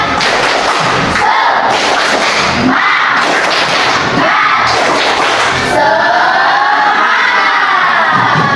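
A school class performs a spirit clapping cheer, loud rhythmic group claps mixed with children's chanting and shouts, bursting in close, energetic waves with voices rising toward the end.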